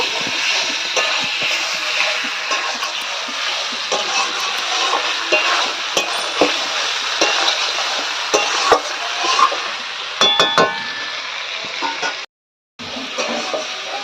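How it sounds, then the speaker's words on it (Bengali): Drumstick stems are stir-fried with spices in a pan: continuous scraping, stirring and sizzling noise with irregular clatter, fairly close and loud, broken by one brief moment of silence near the end. "সমস্ত মশলাপাতি দিয়ে আমি ডাটাটা ভালো করে কষিয়ে নিয়েছি।"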